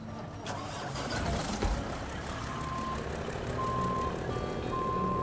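A Kenworth highway truck in the SnowRunner video game, its engine droning steadily while evenly spaced reversing beeps repeat over it.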